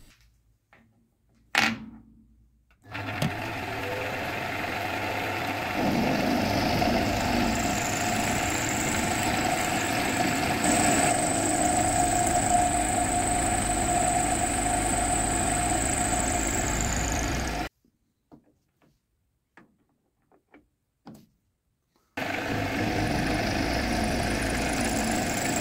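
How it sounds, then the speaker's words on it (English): Milling machine cutting a bearing housing in a home workshop, a steady loud mechanical whir with a high whine running for about fifteen seconds, then stopping briefly before starting up again. "Just a quick milling and I can move on."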